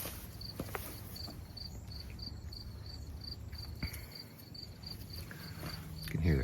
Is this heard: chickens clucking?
no